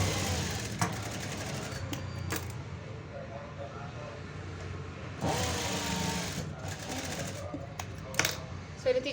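Sewing machine stitching joined fabric strips for a plain blouse: faint bursts of fast mechanical whirring, with a stronger run midway, under someone talking throughout.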